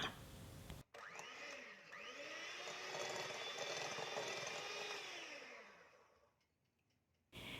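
An electric mixer whirs steadily as it beats butter and white sugar for a butter cake, rising to a sustained motor whine with shifting pitch before slowing and stopping, with no talking.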